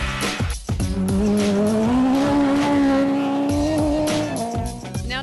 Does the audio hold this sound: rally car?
yes